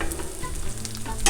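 Carne asada sizzling on a Blackstone griddle as low-carb taco meat is flipped, a loud, close, continuous frying hiss with scraping stirs and a sharper crackle near the end, no talk.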